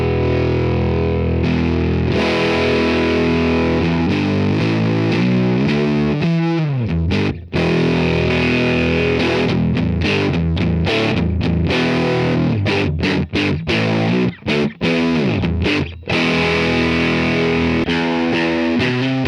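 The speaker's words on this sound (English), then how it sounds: "that's some great distortion." A guitar roars through a cranked 1972 Fender Super Reverb amp pushed into heavy distortion, loud sustained chords and riffs ringing continuously, with a few brief gaps near the end.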